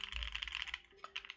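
A keyboard fitted with Alps SKCM Brown linear switches is typed on quickly, giving a dense run of close, crisp clacks with a brief pause near the end.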